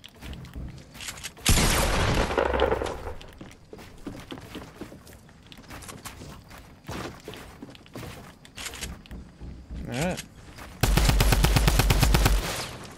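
Gunfire in console Fortnite: several sharp bursts, including a loud rapid automatic volley near the end, separated by quieter stretches with footsteps and scattered single shots.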